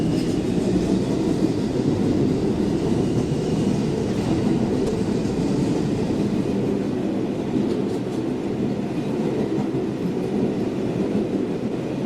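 New York City subway R142 train on the 3 line, Manhattan-bound, running in motion: a steady, loud rumble and roar of wheels on track, with faint rhythmic clatter throughout and no voices.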